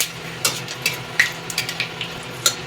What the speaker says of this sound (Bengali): শুকনো লঙ্কা আর পাঁচ ফোড়নটা ওই এক মিনিট মতন আমি ভেজে নিলাম নেড়ে চেড়ে